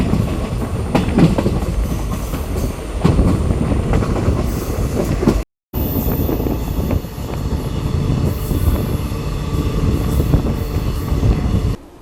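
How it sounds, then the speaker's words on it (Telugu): The Madurai–Trivandrum InterCity Express runs on the rails after a halt near Virudhunagar, with loud, continuous wheel rumble and clickety-clack heard from on board. The sound cuts out briefly midway, then resumes. "నిమిషాల హాల్ట్ తర్వాత మన ట్రైన్ తిరిగి బయలుదేరింది."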